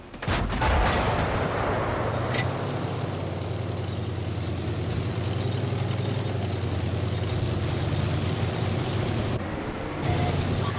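A T71 DA light tank firing in a tank video game, a sharp loud blast at the start with a quick follow-up crack, then a long rumbling engine drone that cuts briefly near the end, with no talking.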